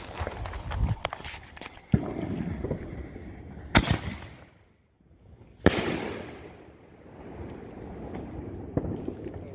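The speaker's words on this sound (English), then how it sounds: "Little 49 shot cake." A 49-shot fireworks cake going off in a backyard on the 4th of July: loud, sharp bangs at irregular intervals with crackling and rustling between them, close by.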